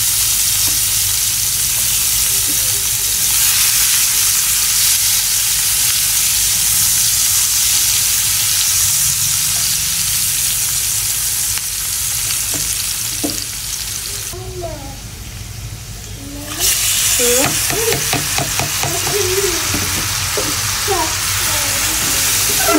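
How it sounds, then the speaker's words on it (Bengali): Garlic and onion frying in hot oil as a tempering for dal in a home kitchen, a loud steady sizzle with stirring and scraping that briefly dips then flares back up with crackling spatter. "রসুন আর পেঁয়াজ বাগার দিয়ে হলে ডালটা বসাই দেবো।"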